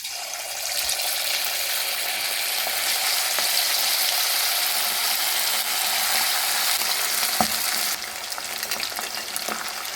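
Coated chicken pieces for chicken Manchurian deep frying in hot oil, a loud, steady crackling sizzle that holds throughout, with small bubbling pops and a slight drop in intensity near the end.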